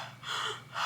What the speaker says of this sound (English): I'm breathing like this because it's so cold and I'm going up a hill.